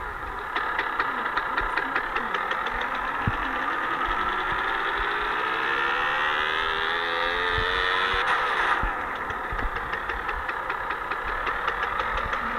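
A motorcycle engine in a GTA video game idles and revs, with a rising and falling pitch sweep in the middle before the engine note cuts back to a steady idle.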